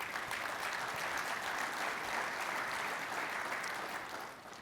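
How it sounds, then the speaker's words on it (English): Continuous audience applause at a clean transportation expo, a full even round of clapping that eases off just at the end. "How about an applause for our state here?"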